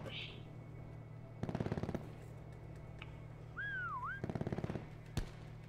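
Two rapid bursts of automatic gunfire ring out in a Call of Duty: Black Ops IV prop hunt match, with a whistling tone and a sharp single crack, all fairly faint over a low background hum.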